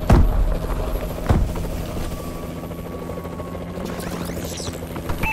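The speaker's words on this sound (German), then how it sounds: "Verbündeter Warbird in der Luft!" An allied Warbird aircraft in Call of Duty: Advanced Warfare multiplayer makes a steady rotor-like hum and drone overhead, with a couple of sharp impact bursts near the start and faint game effects in the background.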